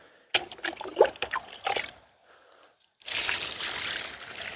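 Water trickles and splashes as eggplant plants in a garden plot are watered, coming in irregular bursts over the first two seconds, a brief lull, then a steady, louder pour to the end.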